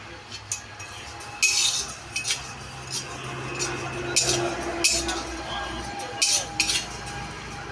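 Cumin seeds dry-roasting in a pan while a spoon scrapes and stirs them, giving clinking metal-on-pan strokes at an irregular rhythm over a steady low background hiss.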